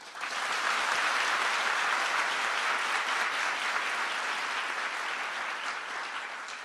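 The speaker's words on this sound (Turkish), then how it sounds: "Tabii bir alkış sesini bakanımıza yapmanız lazım." A crowd at a youth gathering at a library applauds the minister, with sustained, dense clapping that holds steady for several seconds and fades slightly at the end.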